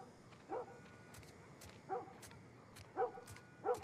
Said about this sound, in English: Why is the dog barking?